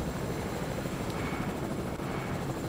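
Helicopter in the Fortnite video game flying with a steady, loud rotor and engine drone that fills the whole clip without a break, no voices over it.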